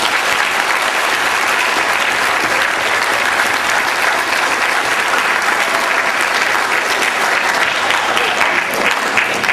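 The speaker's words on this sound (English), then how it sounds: "Please join me in a round of applause to show our appreciation to the coaches." An audience at a sports awards ceremony claps loudly and steadily, a dense, even wash of applause that holds for nearly ten seconds without a break.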